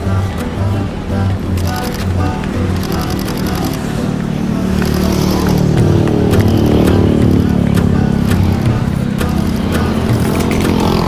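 A motorcycle engine hums smoothly and continuously with a rising drone midway while riding at night from Blok S to Bintaro, wind rushing around it and soft music in the background.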